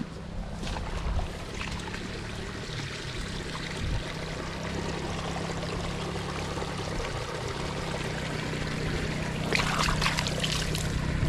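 Tap water runs and splashes steadily while a batch of sweet potatoes is washed, a continuous close gushing and trickling with a few brighter splashes near the end and no talk.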